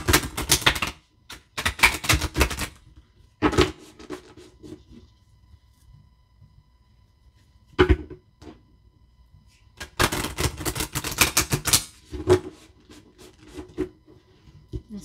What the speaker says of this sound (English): I'm just going to shuffle two more times.